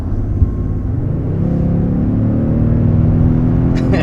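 A 2022 Toyota Tundra Limited TRD pickup accelerates hard from inside the cab. The engine note climbs steadily into a loud, rising drone with a deep rumble underneath and no talk.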